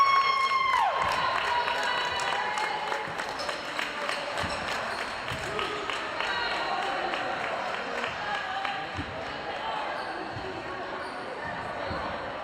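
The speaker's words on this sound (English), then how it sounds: "Crowd's a little energetic tonight" A lively crowd cheers and shouts throughout a high school boys' varsity basketball game in a gym, with a whistle at the start and basketballs thudding on the floor, all heard beneath an announcer's voice.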